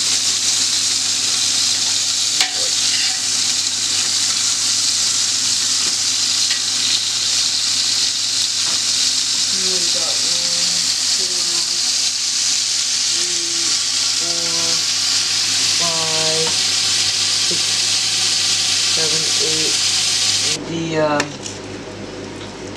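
Hamburger patties frying in a pan with butter and olive oil, a constant close sizzle throughout with occasional clinks and scrapes.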